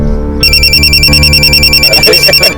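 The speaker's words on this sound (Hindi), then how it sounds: "खान सर का फोन।" A telephone ringtone trills in a loud, repeating electronic pattern over a low background of music, starting after a brief quieter lead-in and continuing steadily to the end.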